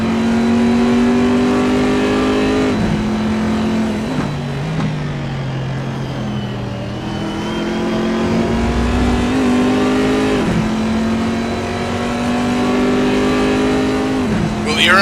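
Race cars in a racing video game climb Mountain Straight toward Quarry at Bathurst, engines loud and continuous with repeated rising revs and gear changes, under a commentator's voice.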